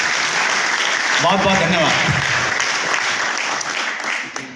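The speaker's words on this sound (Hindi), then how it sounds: "जोरदार तालियां आपके लिए" Sustained audience applause at a Hindi-language stage event, steady and full throughout, fading slightly near the end, with someone briefly speaking over the clapping in the middle.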